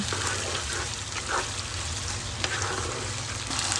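Vegetables with raw chilli flakes frying in a pan for chilli fish, a steady close sizzle with faint scraping stirs running throughout.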